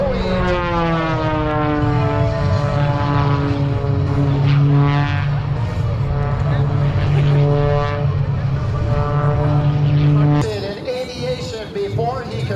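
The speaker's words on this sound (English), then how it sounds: "Down towards the ground, spinning the airplane once again as he finds the center line of the runway" A propeller airplane flying aerobatics at the Boundary Bay Airshow roars continuously, its engine pitch sweeping up and down through spins and dives before the sound drops away abruptly near the end, with an announcer speaking over it.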